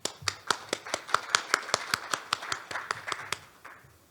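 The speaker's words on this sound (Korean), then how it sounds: "뜨거운 박수로 맞아주시기 바랍니다" Sparse applause from a small conference audience welcoming a speaker at a science and technology session of a Korean expo, heard as distinct separate claps in an uneven rhythm that thins out toward the end.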